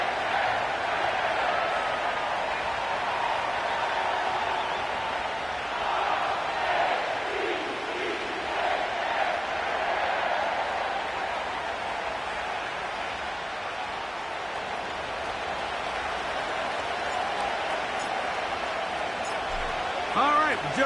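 A stadium crowd in an EA Sports football video game set at M&T Bank Stadium, home of the Ravens, makes a constant loud roar and cheering swell under a commentator's voice.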